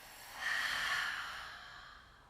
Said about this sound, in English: and out through the mouth.